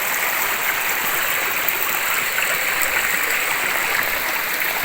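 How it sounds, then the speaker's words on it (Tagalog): Water rushing through a shallow creek among trees, a constant close hiss and babble of flowing current, steady from start to finish with nobody speaking. "Nasa gitna pare ko ng sapa tayo."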